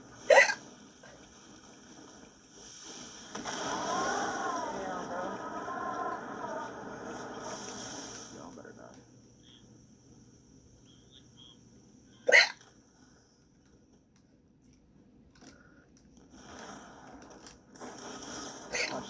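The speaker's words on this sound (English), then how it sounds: "this clip of me getting the hiccups on stream" Hiccups caught on a home stream: two sharp isolated hiccups, one at the start and one midway, with muffled talking and rustling handling noise in between and fainter sounds toward the end.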